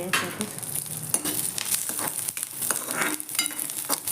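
Grated coconut and garlic dry-roasting in a pan for a flaxseed chutney, giving a steady close crackle and sizzle with occasional scraping stirs, no voices.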